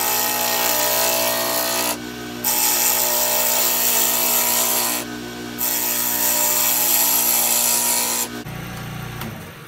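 A wood lathe turns a tobacco pipe at 1800 RPM, giving a loud, steady whirring drone. It dips briefly twice, then drops at the end as the spin changes, with no talking.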